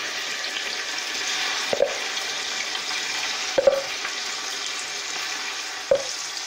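Ginger garlic paste fries in a pot for degi qorma, a steady close sizzle with three sharp clinks of a spoon against the pot spaced through it.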